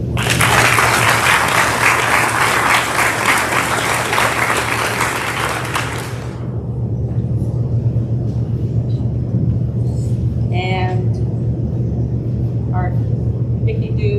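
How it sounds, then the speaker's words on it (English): A school scholarship night crowd claps loudly for an FFA scholarship recipient, a dense burst of applause that stops abruptly after about six seconds, leaving a steady low hum and a few faint voices. "let's give a round of applause to this year's Dickey Do FFA scholarship recipient, Allison Dugan"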